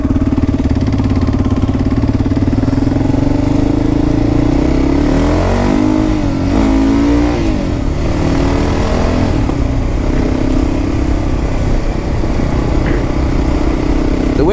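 Kawasaki KLR 650 motorcycle engine running steadily, then revving up and down in a couple of swells before settling back, loud and close throughout with no speech.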